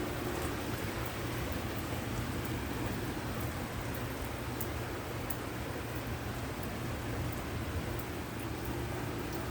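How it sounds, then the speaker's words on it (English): Steady rain falls on a rainy day, a continuous even hiss of drops with no breaks, moderately close and alone without any voices. "But look at this rain again."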